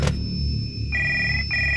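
An old-style telephone bell rings in two loud, steady trilling bursts separated by a brief pause, close by and heard alone.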